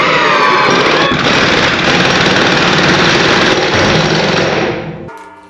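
A Milwaukee M18 Gen 4 or Makita 40V XGT impact driver roars at high speed, loud and close, sinking a 3.5-inch deck screw in one continuous burst before the motor cuts off.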